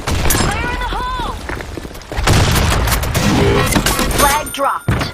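A grenade explodes in a capture-the-flag video game on a sandstorm map, a heavy boom followed by rumbling debris and scattered gunfire, with voice callouts heard over the action.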